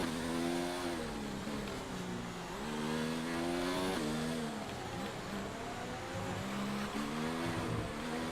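A Formula 1 car engine in F1 2019 howls at the Barcelona Spanish Grand Prix, revving up and down through repeated gear shifts, loud and continuous with no voices.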